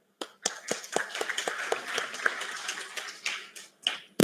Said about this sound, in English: For that, again, one round of applause.